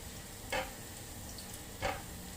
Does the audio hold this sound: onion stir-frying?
yes